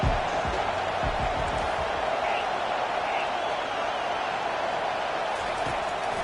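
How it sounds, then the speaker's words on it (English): A steady roar of a football stadium crowd during a third-down defensive stand, a dense, continuous wash of cheering noise that stays loud and even throughout, with a commentator's voice over it. "Decibels rising as the crowd gets behind this defense on third down."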